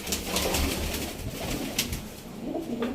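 Breeder pigeon pairs in a loft coo softly and repeatedly, low throaty calls overlapping at close range with faint rustling in between.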